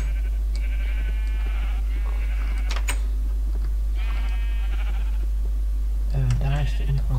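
Sheep bleat in the Minecraft video game, several short wavering bleats spaced across the stretch over a steady low hum, with a voice talking near the end.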